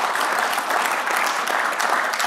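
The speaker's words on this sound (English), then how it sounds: "Please give the General a warm round of applause." A crowd claps warmly for General Petraeus after his remarks, steady dense applause filling the hall without pause, no talking over it.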